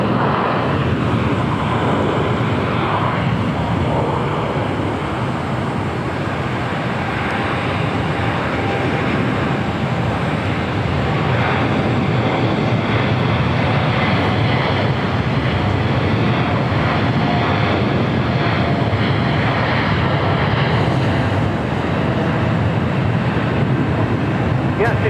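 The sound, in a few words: Airbus A330-200 airliner arriving at LAX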